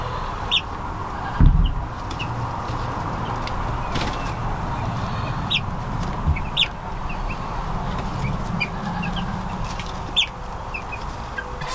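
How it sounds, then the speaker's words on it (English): Young chicks in an outdoor pen, with soft clucks and chirps scattered over a steady farmyard background and a few brief knocks. "So these chicks have been quite happy out here"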